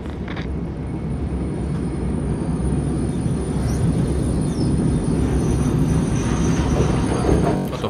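A train rolling along rails in the video game Wolfenstein II, a loud continuous rumble and clatter of wheels with faint metallic squeals, steady throughout with no talking.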